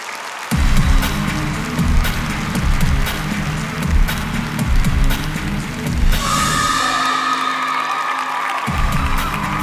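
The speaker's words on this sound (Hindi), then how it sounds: "दोस्तों, जोरदार तालियां हो जाएं।" An audience applauds and whoops loudly for a dance performance, with continuous clapping and cheering from a crowd that drops out briefly before resuming.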